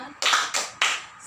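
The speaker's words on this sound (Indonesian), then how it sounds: "Kita tepuk ceria dan tepuk semangat dipimpin oleh Intan" Three quick, sharp bursts of group clapping from students in a classroom, led by one girl in a cheer rhythm, loud and close with short gaps between each clap.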